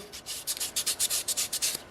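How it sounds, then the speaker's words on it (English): Sandpaper rubbed over a soapstone wolf carving in quick back-and-forth strokes, a steady rhythmic rasping of about a dozen short scrapes, close and distinct with no talk. "so that you can just do the best job sanding everywhere"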